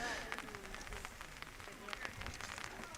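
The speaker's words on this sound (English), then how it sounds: "And the rain is starting to pick up here." Rain falls on a baseball field during a WIAA regional semi-final high school game. It makes a soft, continuous, hissing patter, heard faintly under a voice.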